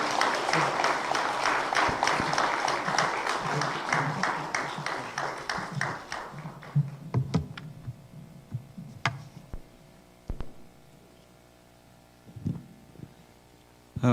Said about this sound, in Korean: 나오실 때 큰 박수 부탁드립니다.